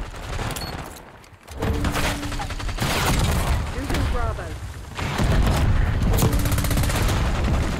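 Bursts of AS Val rifle fire from a Black Ops 6 match, loud and close, coming in several rapid volleys spread across the clip with brief pauses between them, mixed with game effects.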